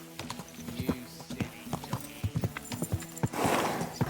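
Horse hooves clip-clop in a steady, close walking rhythm in Kingdom Come Deliverance 2, medieval game audio, with a brief rustle or whinny-like burst near the end.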